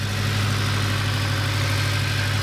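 A Honda S2000 engine idles steadily just after a spark plug change, its VTEC solenoid left unplugged, giving a continuous loud low hum and rumble with no talk over it.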